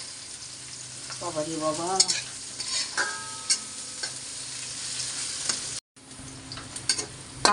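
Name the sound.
cumin and green chilies frying in oil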